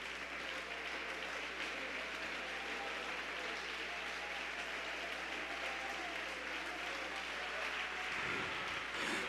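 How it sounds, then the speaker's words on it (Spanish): A church congregation applauds together at a Spanish-language worship service, a steady, dense wash of clapping held at an even level throughout, with no voices breaking through. "Dele ese aplauso al Señor."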